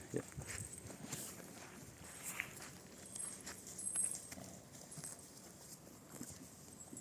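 Soft, irregular hoof clops of black horses, a mare and a stallion, walking on hard ground, fairly faint with a steady outdoor background hiss.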